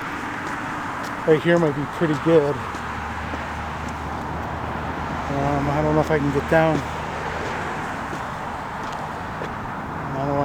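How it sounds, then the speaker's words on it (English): A highway nearby sends a constant low roar of passing cars across an outdoor spot by grain elevators, steady beneath someone talking close by. "I apologize for the noise because there's a highway"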